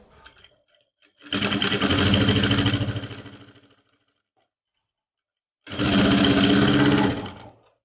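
A sewing machine stitches a lined suit in two bursts, a close, loud, rapid mechanical whirr lasting a couple of seconds each, separated by a few seconds of near silence.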